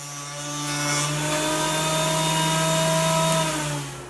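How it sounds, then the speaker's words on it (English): A jointer squares the edges of a wooden blank for a seven-string multiscale guitar neck, a loud, steady machine whine and cutting hiss rising and holding for a few seconds before tapering off, with no talk. "Both edges of the blank need to be squared up with the front and back faces, so I'll run it through my joiner."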